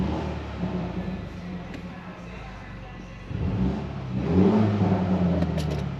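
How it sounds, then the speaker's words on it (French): A BMW X2 M35i compact sporty SUV with 306 horsepower, in sport mode, revs its engine with a steady exhaust drone that swells louder and deeper partway through, close and continuous. "Vous voyez, en mode sport, on a quand même un joli retour à l'échappement."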